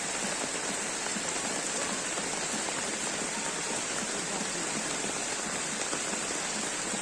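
Heavy rain pours onto floodwater covering a village, a dense, unbroken roar of drops that stays steady and loud throughout, with no voices.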